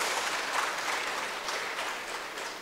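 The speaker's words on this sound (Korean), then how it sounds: "우리 지휘자님 또 우리 수고하신 반주자님들, 관현악 팀들 우리가 큰 박수 한번 드립니다" A church congregation applauds its choir conductor, accompanists and orchestra, with steady, dense clapping that holds evenly for the whole stretch and fades only slightly at the end.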